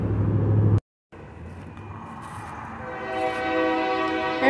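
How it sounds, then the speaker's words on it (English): A passing train sounds a long, loud horn that swells and holds near the end, heard close over rumbling rail noise after a brief cut, outdoors near a store. "There's a choo-choo train."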